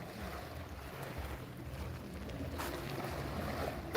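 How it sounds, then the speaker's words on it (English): Sea waves wash continuously onto the Magaluf beachfront, a steady broadband roar mixed with wind buffeting the microphone, with one brief louder surge midway and no talking. "you've just got the waves crashing there"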